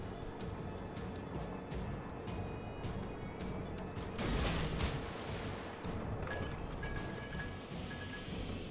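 Naval gunfire from warships in the World of Warships video game: steady, loud rumbling salvos that continue throughout, with a heavier burst of blasts near the middle.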